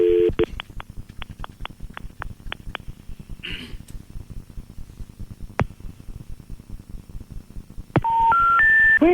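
A telephone number dialed on a touch-tone keypad: a run of about a dozen short, evenly spaced beeps, loud and close, followed by a rising three-tone intercept signal over a steady line hiss.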